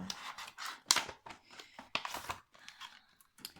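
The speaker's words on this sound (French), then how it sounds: "on va couper le scotch" Close, quiet snips of scissors cutting through tape, a series of crisp irregular cuts mixed with light crinkling.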